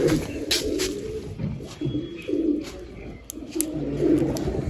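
Domestic pigeons coo repeatedly nearby, soft low throaty calls recurring in an uneven rhythm over faint background rustling.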